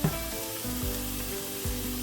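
Coarsely blended vegetables sizzle in a saucepan with a steady frying crackle, broken by a couple of brief stirring scrapes.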